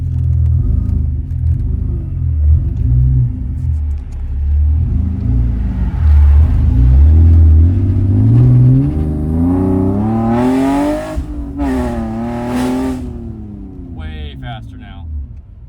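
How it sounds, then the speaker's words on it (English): A budget drift car's engine revs hard through an in-car acceleration pull, a loud rising drone that climbs in pitch with rough exhaust rumble, heard from the cabin with a voice speaking over the start. "So I'm gonna turn the AC off and do another pull."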